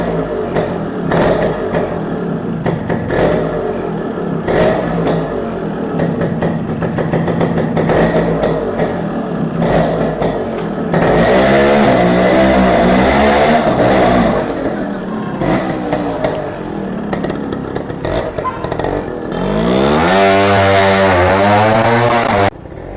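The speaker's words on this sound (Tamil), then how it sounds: "இப்போ ரைடு, எக்ஸாஸ்ட் நோட் எல்லாமே நம்ம கேட்கலாம்" A restored 1997 Yamaha RXZ motorcycle engine revs loudly and steadily throughout, its exhaust note rising and falling in repeated swells, with sharp pitch sweeps near the middle and end and no talking.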